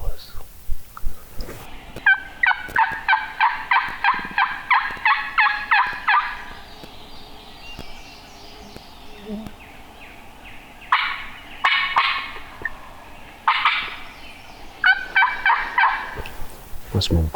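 Wild turkey on public land gobbling in repeated rattling bursts from a middle distance, several calls across the stretch with quieter gaps between them, outdoors with light background noise.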